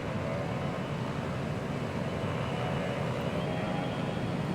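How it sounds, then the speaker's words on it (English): A small plane taking off in Transport Fever 2 produces a steady, broad engine drone at an even level throughout, with no talk over it. "I'm not sure how that small plane took off from way back there"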